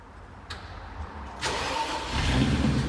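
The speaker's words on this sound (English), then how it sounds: "Cool starter sound" An Audi V8 Quattro's starter cranks briefly before the engine catches and settles into a loud, rough idle, heard close by.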